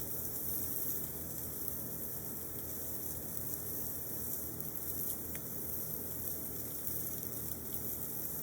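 Lamb chops on the hot side of a grill give a steady, even sizzle that stays constant and fairly quiet, with no talk.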